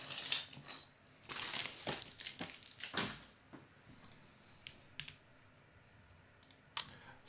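Typing on a rebuilt mechanical keyboard with its keycaps, faint scattered clicks and clacks in short bursts with pauses, quiet and close.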